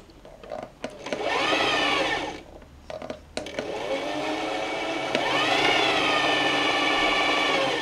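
A sewing machine runs in two bursts, a whirring motor hum that starts, stops with a few clicks, then runs again longer and steadier, fairly close.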